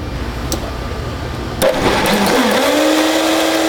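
Kitchen blender pureeing a squash sauce seasoned with chili, a loud motor whirring steadily and then rising in pitch as it spins up halfway through, running alone without talk.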